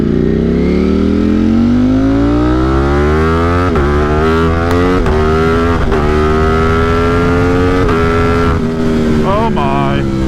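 A loud motorcycle tuned with an OpenFlash tablet revs and accelerates close by, its engine note climbing steadily in pitch through several throttle pulls, with brief crackles between them.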